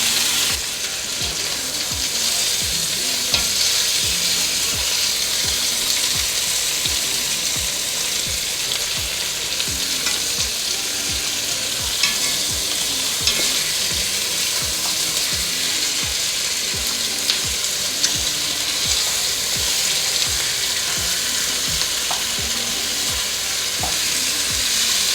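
Beef neck bones frying in a pan: a loud, continuous close-up sizzle with regular scraping strokes from stirring, heard alone with no talk for the whole stretch.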